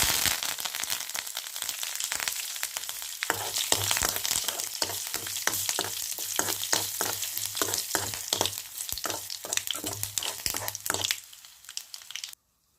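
Steady loud sizzling of tempering spices, crushed garlic and curry leaves frying in hot oil, with crackles and pops and a low rhythmic stirring tap, fading out near the end.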